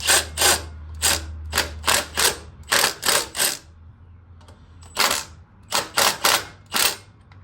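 Timing cover bolts being tightened on a 1999 Chevy S10 2.2L with a hand ratchet, bursts of sharp rapid clicking in several rhythmic runs separated by short pauses, close and clear.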